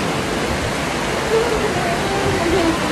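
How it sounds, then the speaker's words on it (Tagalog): Heavy rain pours steadily in a dense, unbroken hiss, close and loud for the whole stretch, with a faint voice barely audible beneath it. "ang lakas ng Lakas ng ulan"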